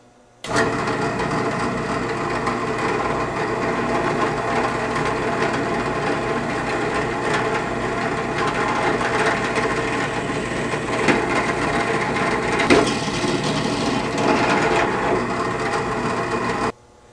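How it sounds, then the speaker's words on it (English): A steady power drill whirs continuously, boring a hole through PVC pipe, with a few brief spikes as the bit bites, then stops abruptly. "we'll just drill a hole right through that pipe"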